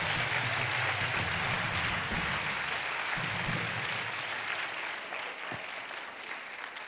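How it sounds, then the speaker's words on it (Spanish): Studio audience on a Spanish-language talk show breaking into sustained applause, dense and steady, fading slightly toward the end. "Un aplauso para Gregorio Peña"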